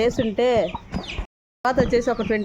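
A rooster clucks in a loud series of throaty calls, a brief silence, then more clucking close by.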